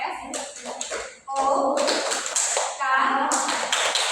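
Children in a school classroom perform a rhythmic clapping routine, crisp patterned claps in quick bursts over their chanting voices, loud and close, with a short pause before the clapping picks up again.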